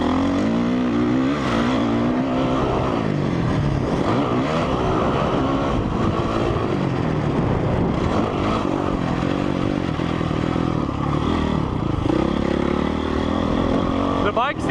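A 2004 Honda CRF450 dirt bike engine roars continuously while being ridden, loud and close with a dense rumbling drone and shifting revs. A rider talks over the engine noise.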